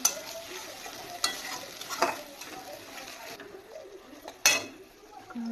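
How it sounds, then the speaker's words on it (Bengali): Spinach being stir-fried with lightly fried paneer in a pan, a quiet continuous sizzle broken by a few sharp clinks and scrapes of a spoon against the pan. "দেখো পালং শাকটা একটু হালকা করে কষিয়ে নিলাম"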